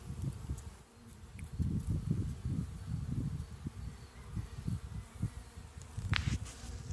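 Honey bees buzzing around an open hive during an emergency spring split, a continuous low, fluttering drone with rising and falling swells close by and no voices.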